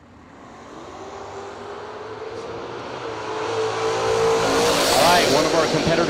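Mustang drag car launching hard on its rear bumper at a drag racing event, its engine roar building and growing louder as it pulls away, with a bright rising whine and tire noise near the end.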